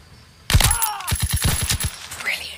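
A burst of gunfire aimed at an officer in a WWII video game, with one sharp shot followed by a quick rattling string of close rounds over about a second, then fading.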